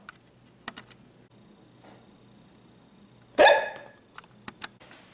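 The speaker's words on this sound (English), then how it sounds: "Oh no, your hiccups are still there." Donald Duck hiccups once, a sharp, loud squawky burst that stands out from quiet background, with small clicks and faint sounds scattered before and after.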